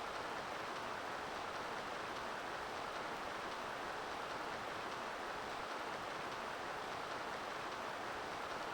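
Steady rain in the video game Dragon Warrior VII, a soft continuous hiss of falling water holding even and moderately quiet throughout with no voices.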